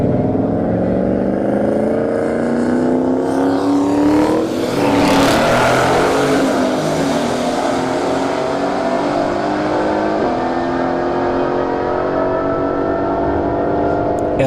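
A drag race between an LTD wagon with a turbo LS engine and an AMG GT, loud and continuous engine roar with rising revving pitch and a broad whooshing surge midway.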